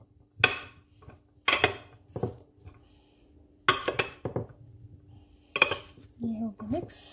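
A utensil knocks and scrapes against a bowl as cream is mixed for a fruit dessert, several separate clattering bursts with pauses between them, close, with brief speech near the end.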